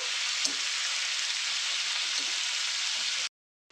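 Brinjal palya sautéing in a pan, a steady close sizzle with faint stirring scrapes that runs without a break and then cuts to silence near the end.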